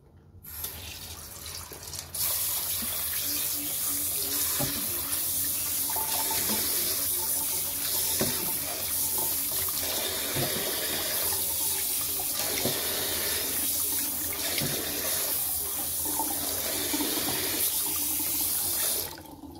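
A tap runs steadily into a sink for a long stretch, with splashing and shifting as pork is rinsed under the stream.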